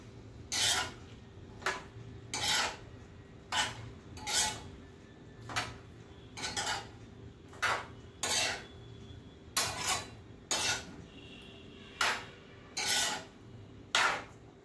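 Spoon stirring and scraping snake gourd bhaji in a pan, a steady series of about fourteen rhythmic scraping strokes, close and fairly quiet with no talking.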